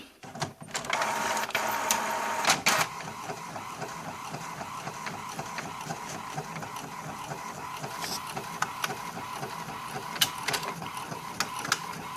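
A printer whirs and rattles steadily while printing on clear sticker paper, with mechanical clunks and feeding noises repeating over a continuous motor drone.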